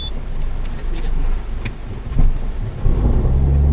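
Dense, heavy rain roars steadily while low rumbles of thunder swell near the end, loud and close.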